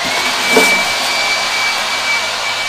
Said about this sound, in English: using the Wild Badger electric blower